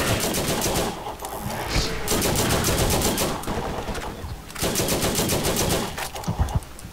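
Rapid automatic turret gunfire in the Borderlands video game, dense rattling bursts that stop briefly and resume, loud and continuous with no talk over it.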